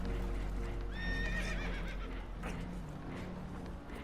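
Spooked horses whinny shrilly aboard a sinking boat in Red Dead Redemption, one high neigh in the foreground over rumbling, clattering commotion that continues afterward.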